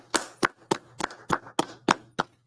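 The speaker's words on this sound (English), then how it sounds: "Let's clap it up" A single pair of hands claps about eight times at a steady, slightly uneven pace. The claps are sharp and close, over a faint constant hum.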